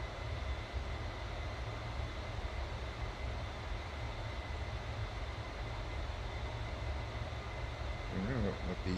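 A bomber's engines drone steadily in a flight simulator game, a constant low hum that stays level throughout, with a faint change near the end.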